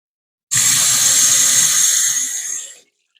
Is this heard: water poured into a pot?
yes